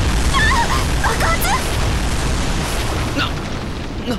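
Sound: explosion in SD Gundam Battle Alliance video game

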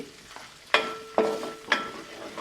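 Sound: frying gongura garlic chicken in a pan on the stove

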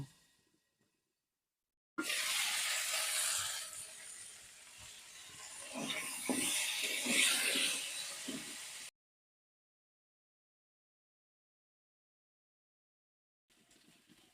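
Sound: potatoes frying in oil in a wok

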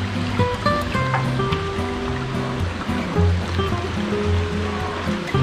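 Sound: river water flowing, River Kwai

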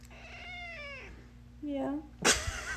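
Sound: cat meowing

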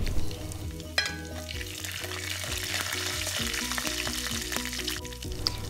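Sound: shallot and dried red chillies frying, stirred in pan

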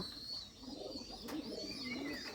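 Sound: Bombay pigeons cooing in their coop

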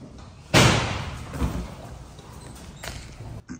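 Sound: monkey opening a latched drawer

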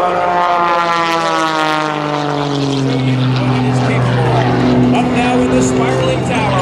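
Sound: aerobatic propeller aircraft flying at airshow

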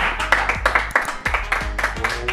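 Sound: hand clapping

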